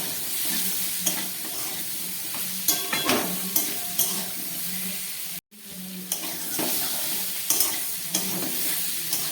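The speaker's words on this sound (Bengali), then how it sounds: "এবার এটাকে খুব ভালো করে কষিয়ে আমি জল দিয়ে দেব।" Spiced curry being sautéed and stirred in a pan, a steady sizzle broken by repeated scraping strokes of the spoon, close and fairly loud, with a brief silent gap midway.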